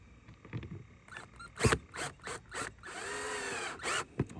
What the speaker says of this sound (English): All I'm going to do is start putting screws in.